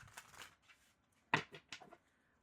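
Soft papery riffles and flicks of tarot cards being shuffled by hand, a few brief bursts with quiet pauses between, close and faint.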